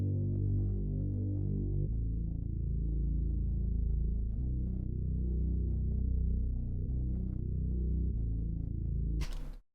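A simple, deep bass line for a sad ambient hip-hop loop, doubling piano bass notes: sustained low tones changing pitch every couple of seconds, smooth and steady, heard alone before cutting off abruptly with a brief noisy burst.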